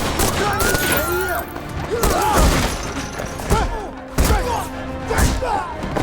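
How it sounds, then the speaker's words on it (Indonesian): Gunfire and thumping impacts ring out in a movie shootout, with bursts of shots and heavy thuds mixed among clashing effects and scattered voices. "terjadilah baku hantam serta tembak-tembakan."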